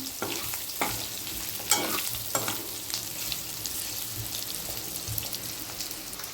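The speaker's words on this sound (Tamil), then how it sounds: "பச்சை மிளகா எனக்கு கொஞ்சம் ஃப்ரை ஆகும்" Green chillies frying in oil in a pan for chicken pickle, giving a steady, close sizzle broken by several sharp stirring scrapes and clatters, with no voices.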